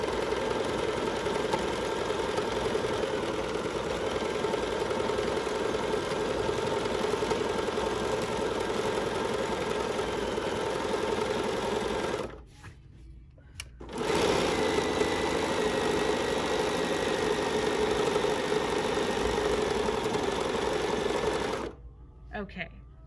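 Sewing machine stitching embroidery with a number 43 foot and white thread, a steady close whirring run that stops briefly twice before resuming.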